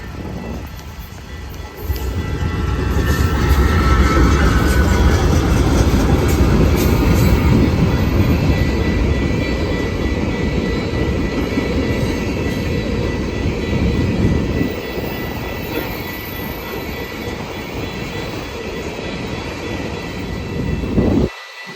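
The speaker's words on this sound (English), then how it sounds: "Our first train in Rochelle would be a westbound BNSF Coke Empties, with a BNSF Gevo in the lead and a CSX Gevo trailing" A westbound BNSF coke empties freight train roars past at Rochelle behind a BNSF GE Evolution locomotive with a CSX unit trailing, a loud, steady rumble of engines and rolling cars that holds for about twenty seconds before cutting off.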